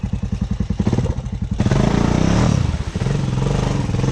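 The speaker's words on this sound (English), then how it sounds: "Our tire's spinning too much." A motorcycle engine chugs in a steady pulse, then surges into a loud, straining rev as the tires spin in a creek, holding a rough roar to the end.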